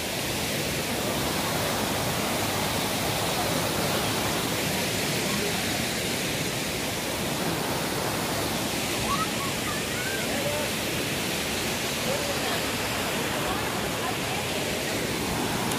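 Loud, continuous roar of a waterfall dropping from a great height at Igatpuri, a broad unbroken rush of crashing water that stays constant throughout, with faint voices barely audible beneath.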